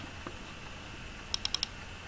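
Four quick, light clicks of typing on a computer keyboard, in an even rhythm near the end, faint and close over a quiet room hum.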